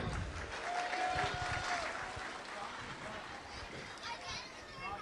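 An audience at a local talent show event applauds, a dense wash of clapping heard from within the crowd, with children's voices and chatter mixed in throughout.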